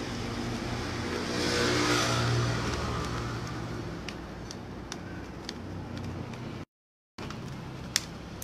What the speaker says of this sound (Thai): จะได้ยินเสียงรถผ่านไปมาเยอะ